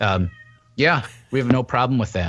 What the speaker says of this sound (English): apologize if you guys hear a cat meowing in the back here.